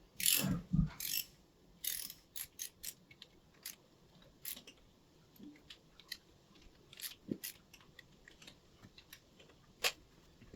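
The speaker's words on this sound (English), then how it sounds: "I'm going to set my torque wrench to 50 inch-pounds. There you go there. And torque them up." Torque wrench tightening bolts on the rear end of an IH 1256 tractor during assembly, heard as irregular close ratcheting clicks and metallic ticks in quick bursts, quiet overall, with no speech.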